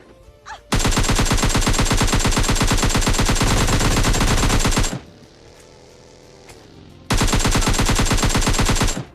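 Rapid automatic gunfire in PUBG Mobile Lite, loud and close, comes in two long sustained bursts separated by a few seconds of quieter game ambience, with no talking.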